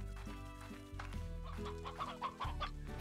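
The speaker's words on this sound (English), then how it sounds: "Hello, chickens." Chickens in the Slime Rancher video game cluck and squawk in short, overlapping bursts over a quiet, sustained musical background.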